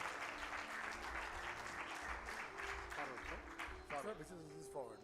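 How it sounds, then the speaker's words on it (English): Audience clapping at the India Advantage Summit 2022, a sustained patter of applause that carries through, with short bursts of voices over it toward the end. "Please clap a little louder."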